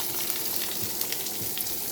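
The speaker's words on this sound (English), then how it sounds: "As long as the outside is seared" A steak sears in a hot pan with a continuous, close sizzle and crackle and a few sharper pops.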